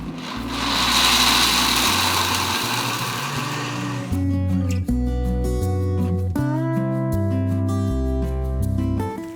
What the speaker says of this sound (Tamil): இதை அப்படியே போட்டு அரைச்சி எடுத்துக்கலாம்.